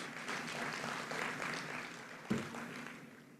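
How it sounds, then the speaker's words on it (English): A crowd claps steadily for a few seconds, a dense patter of hands that gradually thins out, with a single louder knock near the end. "Let's give him another round of applause."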